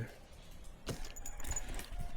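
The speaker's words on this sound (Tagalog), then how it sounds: "At subukan na natin yung susi na yung luma o yung para sa ating stack." A set of keys jangles near a Husky ADV 150 scooter's ignition switch, with a sharp metallic clink as a key is tried, over low background noise and some faint voice.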